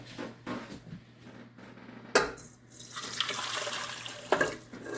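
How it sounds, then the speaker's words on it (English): Boiling water is poured into a mixer bowl in a kitchen, giving a soft running, splashing stream with a few sharper clinks and splashes. The sound is fairly quiet and close. "we're going to take this 2 cups of boiling water and we're going to pour it into our mixer"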